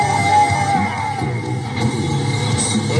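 Rodeo crowd at a bull-riding final yelling, whooping and cheering for a rider, a loud continuous roar of voices with shouts rising out of it.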